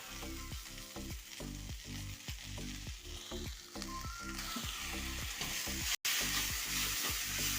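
Coconut paste heating in a pan for a drumstick leaf and lentil thoran, sizzling steadily up close while a spoon stirs and scrapes in a regular rhythm, with a brief pause near the end.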